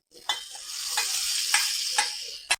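Hot tempering poured into a pot of garlic rasam: a steady crackling sizzle with several sharp splashy bursts as spoonfuls hit, no talking.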